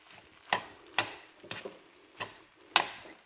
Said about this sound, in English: Just trying to mix the noodles in a bit better.